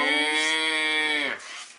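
A cow gives one long, loud, close moo that holds steady for over a second before dropping off into a short breathy tail; no talk.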